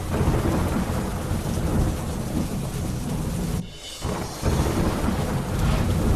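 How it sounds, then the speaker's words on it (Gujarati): Heavy monsoon rain pours down in Ahmedabad with a constant loud roar and deep rumbling thunder, the downpour briefly dipping to a hush before returning at full force. "અમદાવાદમાં જામ્યો વરસાદી માહોલ।"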